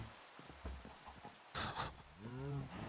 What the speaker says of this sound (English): Do you have it so it's raining everywhere right now?